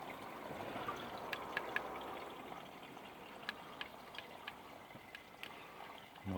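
Water trickles through a hydroponic chinampa channel carrying nutrients past plant roots, a soft steady flow with faint intermittent drips and ticks, quiet and continuous with no talking.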